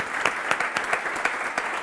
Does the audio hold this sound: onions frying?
no